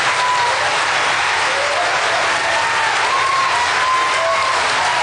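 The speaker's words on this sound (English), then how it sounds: "I left the cheering in there on purpose to share with you how crazily excited the audience was" Steady, loud applause mixed with cheering sweeps through an audience at a political event, sustained evenly throughout with a few whistles or shouts rising above the clapping.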